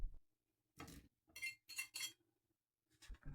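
A spoon clinks against a bowl while stirring sugar and a pinch of salt, giving a few separate metallic chinks and scrapes with quiet gaps between them, close but soft.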